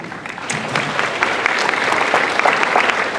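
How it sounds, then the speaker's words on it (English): Steady, dense applause from a convention panel audience at JaxCon, a Supernatural fan event, sustained at even loudness throughout without pause. "You're applauding her patience, right?"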